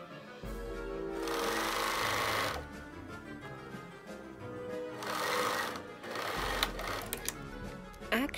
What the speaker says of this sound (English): Now I just have to sew these two parts together.